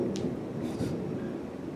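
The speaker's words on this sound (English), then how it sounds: "If you heard that thunder" Distant rolling thunder from a storm, a steady low rumble with a faint crack near the start, heard alone without talk.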